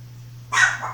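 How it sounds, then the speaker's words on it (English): A dog gives one sudden, short bark indoors at home, fairly close and loud, breaking an otherwise quiet room with a low hum. "that's my dog letting me know that he's heard some funky noise"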